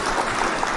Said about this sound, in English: Hit the claps for Aisha Saxon.